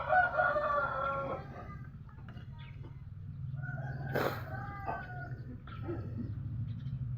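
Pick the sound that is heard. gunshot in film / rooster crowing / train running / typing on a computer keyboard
rooster crowing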